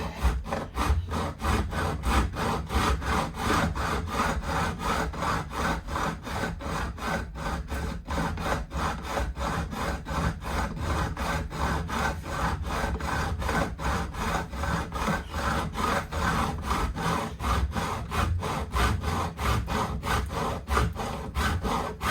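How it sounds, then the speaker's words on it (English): A file or saw works guitar fret ends on a Rally GL300, cutting a bevel of about 30 degrees in a rapid, even back-and-forth rasping rhythm that continues loud and close without pause. "So this is cutting now a bevel angle of about 30 degrees, whatever it ends up being."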